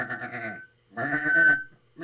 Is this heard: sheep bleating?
yes